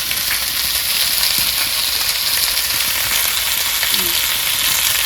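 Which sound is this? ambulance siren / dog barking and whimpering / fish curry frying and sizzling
fish curry frying and sizzling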